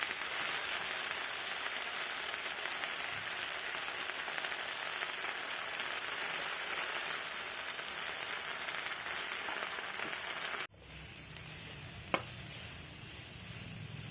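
Drumstick (moringa) leaves sizzle steadily in a hot pan, a dense continuous frying hiss lasting about ten seconds before a brief break and a quieter sizzle resuming, with no talking.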